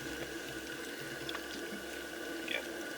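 Purified lake water trickles and splashes as it is poured into a pot for cooking outdoors, a steady faint liquid rush with a few small drips and clinks.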